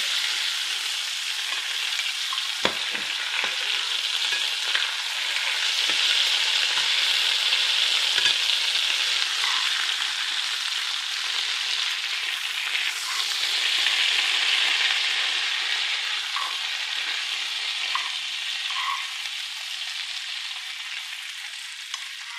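Liver frying in butter in a pan makes a steady, close sizzle that runs throughout, with a few faint clicks and utensil taps and no voices.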